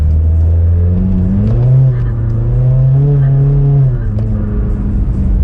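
A turbocharged Hyundai Genesis Coupe engine revs loudly and continuously, pitch rising and falling through gear changes, with a throaty turbo character close up throughout.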